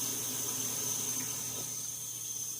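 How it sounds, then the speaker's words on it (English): Water poured into a pot for a one-pot pot roast dinner, a steady faint trickling stream that runs evenly for a few seconds with no voices. "I'm going to add the water in first."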